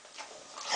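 Golden retriever giving a short, faint whine-like vocalization on command, breathy and high, heard close up and quiet with no talking.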